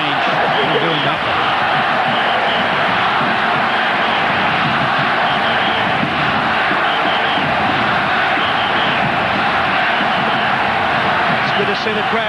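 A large football stadium crowd at an Australia versus Canada World Cup qualifier in 1993 roars and chants steadily throughout, a dense continuous wall of cheering under commentator talk.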